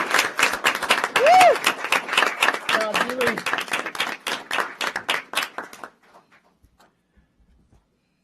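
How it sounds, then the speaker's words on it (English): Audience at a city council meeting breaks into a round of applause, dense clapping for about six seconds with a few voices calling out over it, then fading quickly to near silence. "Well, let's give her a round of applause."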